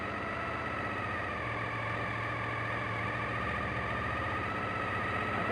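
A Suzuki TL1000S motorcycle engine idles steadily at about 2000 rpm, a close, even low hum that holds without change and with no talk.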